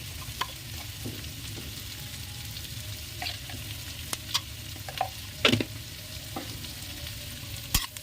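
Egg chowmein ingredients stirred in a pan with salt and turmeric added, a quiet low sizzle running throughout with occasional sharp scraping clicks of the spatula against the pan.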